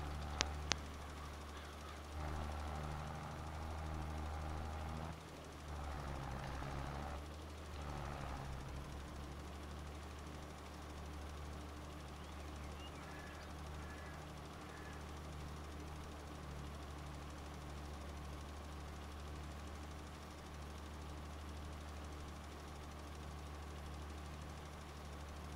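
Tractor engine in Farming Simulator 22 on an Allis Chalmers farm, running steadily with a low droning hum and a rough, knocking idle, plus a few brief louder bursts of mechanical noise early on.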